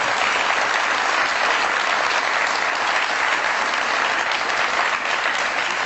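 A studio audience bursts into dense, continuous applause to welcome a guest on a talk show, loud and even throughout with no voices on top.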